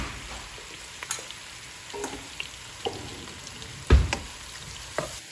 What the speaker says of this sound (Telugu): ఇప్పుడు మళ్ళీ నూనెలో వేసుకొని దీనిలో కొంచెం పచ్చిమిరపకాయలు, కొంచెం జీలకర్ర వేసుకుంటున్నాను